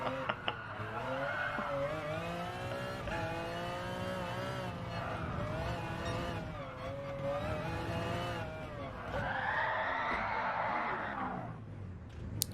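A race car spinning out in Gran Turismo Sport played in VR, with a steady engine drone, wavering revs and a sustained tire squeal that swells loudly near the end.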